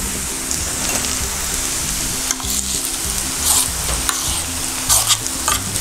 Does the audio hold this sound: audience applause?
no